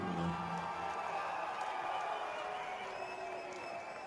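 A hometown crowd at a Fusion Fight League mixed martial arts event cheers and claps for a fighter from Missoula, Montana, a sustained rumble of applause and shouts heard from a distance, under announcer talk.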